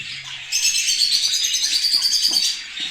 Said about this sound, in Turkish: Şu Forpus yavrularını göstereyim.